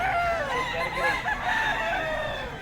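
Roosters crow repeatedly among a flock of fighting chickens, including silver gray birds, the calls loud, close and overlapping with clucking throughout.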